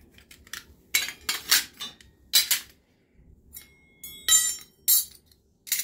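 Copper puja spoons (kushi) clink and rattle against one another as they are handled, in several sharp metallic bursts with short pauses between them, close and fairly loud.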